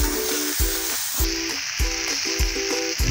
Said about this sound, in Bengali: একটি টমেটো আমি কুচি করে রেখেছিলাম, সেটিকে দিয়ে দিলাম। দেওয়ার পর এটি সুন্দরভাবে নাড়াচাড়া করতে থাকবো।